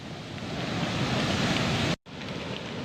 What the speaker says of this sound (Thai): โอ้กระแสน้ำไหลเชี่ยวมากคุณผู้ชม ผ่านพื้นที่ไร่ข้าวโพดครับ